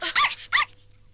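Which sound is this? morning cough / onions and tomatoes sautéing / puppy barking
puppy barking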